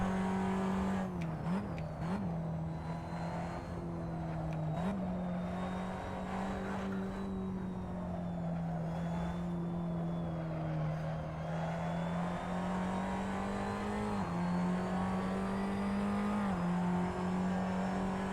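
Tatuus FA01 race car engine in a racing sim at Silverstone National, droning steadily with a strong tonal whine that dips and rises with brief lifts and gear shifts, close and loud throughout with no talk.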